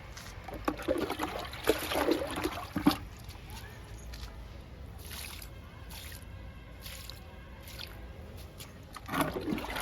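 Liquid fertilizer is poured onto budding, flowering plants in a home garden, giving faint trickling and splashing in short bursts, with quiet gaps between pours.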